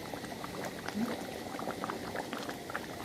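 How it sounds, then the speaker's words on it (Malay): Water boils steadily in a pot for cooking cassava shoots, with a dense, continuous bubbling and rolling sound at an even level throughout. "Saya nak rebus pucuk ubi."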